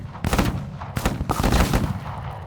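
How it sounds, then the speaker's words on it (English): Bursts of gunfire and heavy weapon fire from the tactical war game Menace crackle in rapid, dense volleys, loud and close, with no voices over them. "We are under heavy fire."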